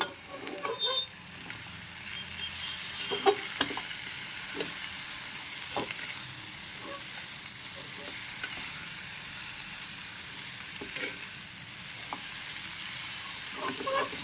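Cluster bean curry cooking in oil in a pan, a steady soft sizzle and hiss running throughout with occasional spoon clicks and scrapes scattered across it, close and fairly quiet, no voices.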